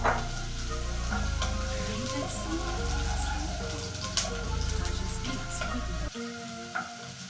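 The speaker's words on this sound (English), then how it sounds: "After the oil has heat up, add your onions" Onions frying in hot oil produce a loud, continuous sizzle with occasional stirring scrapes, dropping slightly in intensity toward the end.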